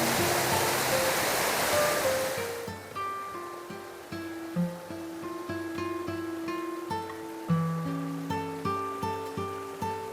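A forest river at Kadavupuzha waterfall in Kottayam rushes loudly over rocks for a few seconds, then cuts away to music.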